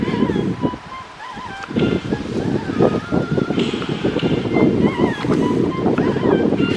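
Strong wind buffets the microphone over steady ocean surf on a cold, blustery Florida Treasure Coast beach, a continuous loud roar with gusty swells and a few faint voices mixed in.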